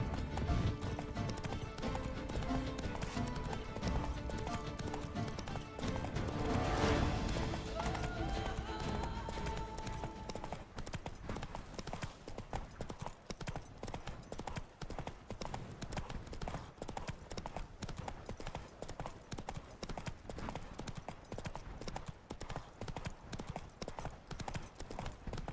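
Horse hooves galloping in The Witcher 3 video game, a fast rhythmic clip-clop running continuously and loud, with game sounds and a brief voice in the first half.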